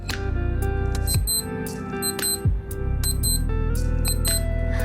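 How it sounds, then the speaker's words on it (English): A Casio LF-30W digital watch alarm beeps in rapid high-pitched bursts, repeating in clustered groups, loud and close, with handling noise between the bursts. "that will make the alarm go off to give you a demonstration so you can see how loud it really is"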